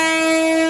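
Seshadri Express, train no. 17209, running between Bangalore and Kakinada, heard as a brief steady drone with sustained tonal ringing, loud and continuous without a break.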